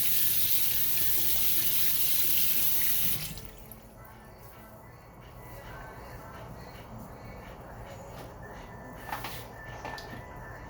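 Hands washed under a running kitchen tap: a loud steady gush of water for about three seconds, then a softer ongoing splash and trickle as the hands move, close and continuous.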